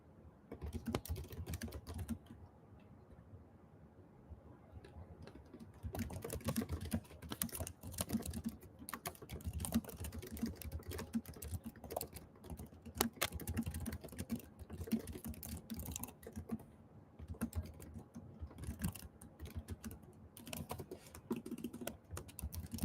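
Fast, steady typing on a computer keyboard, with dense clicking keystrokes up close and short pauses between bursts, no talking.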